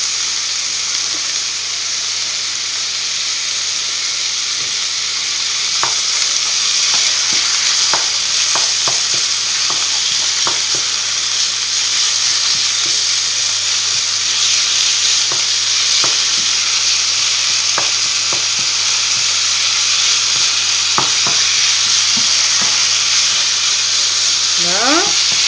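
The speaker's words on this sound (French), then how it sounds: "Là, on rajoute notre viande hachée." Minced meat frying in olive oil for aubergine lasagne, a constant loud hiss of sizzling with scattered clicks and scrapes as it is stirred, close up and without talk.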